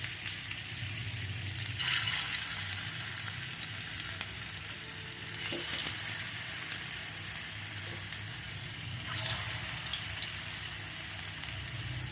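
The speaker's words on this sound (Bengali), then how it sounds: "আস্তে আস্তে করে একটা একটা করে কোপটা ভেজে নিতে হবে" Oil sizzles and crackles steadily as papaya koftas fry one by one in a pan, with a few brief stirring or clinking sounds, close and continuous.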